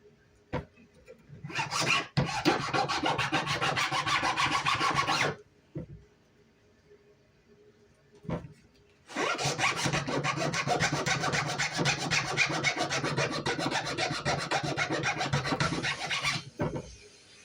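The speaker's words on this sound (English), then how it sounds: "So let's just keep filing it until we get it to where we want it to be." Rasp filing an acorn cap for a small bowl: two long bursts of steady, loud rasping strokes, one about three seconds and one about seven, with a short pause and a few isolated scrapes between them, no talking.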